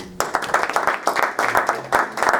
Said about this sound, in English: Please, a huge round of applause for co-founder and president of Earthopia, Mr. Sunil Ishirze.